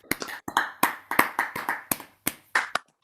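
Scattered clapping from a small audience after a talk about the RSPB Snettisham beach reserve, a few distinct claps in an uneven rhythm, sparse and close rather than a full ovation.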